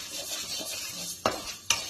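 Black kavuni rice dry-roasting in a pan gives a soft, steady rustling scrape, broken by two sharp metallic clinks of a spoon against the pan.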